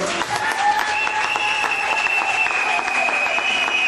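A congregation at a wedding ceremony breaks into sustained applause, a dense wash of many hands clapping steadily with cheering voices mixed in throughout.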